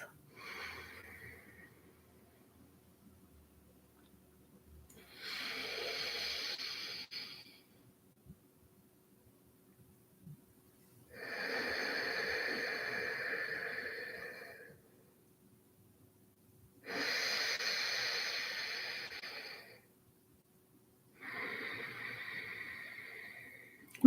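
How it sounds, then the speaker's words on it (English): Slow, deliberate breaths drawn during a breathing exercise that alternates nostrils, exhaling through the right: four long, airy breaths of a few seconds each, separated by quiet pauses, close and alone. "We're just naturally allowing the breath to get longer and longer"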